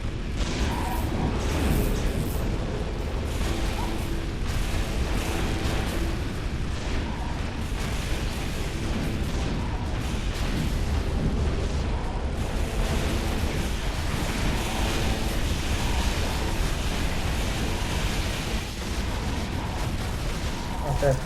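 Cannon tower fire and explosions from the strategy video game Defense Grid 2, a dense, continuous barrage of booming blasts and rumbling impacts over game music and ambience, with no pauses across the stretch.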